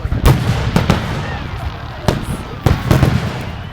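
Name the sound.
Canada Day fireworks exploding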